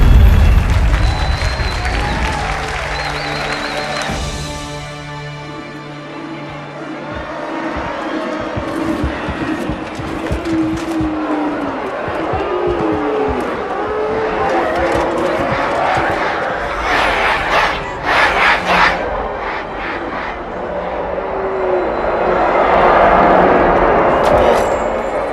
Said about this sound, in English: Drawn quite a crowd.